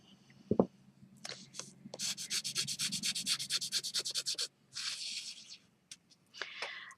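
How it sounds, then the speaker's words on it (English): A finger rubs and burnishes tape around the edges of a rubber stamp. It makes a close, dry rubbing sound in quick regular strokes, with a short pause partway and a few softer rubs near the end. "As I burnish with my finger, you can see that I'm making the tape stick to the rubber"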